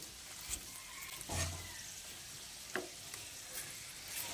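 Potato and egg breakfast snacks fry in hot oil, giving a steady soft sizzle with a few brief sharper crackles and spatters as the pieces are turned; no one speaks.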